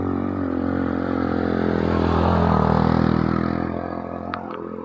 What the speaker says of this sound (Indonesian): ada lagi motor